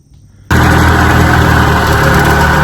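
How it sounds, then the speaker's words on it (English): A 1957 18 HP Evinrude outboard motor on a lake bursts into life after a quiet moment and keeps running at a loud, steady, close drone. "Okay, we're out here with Cliff's motor. Started right up"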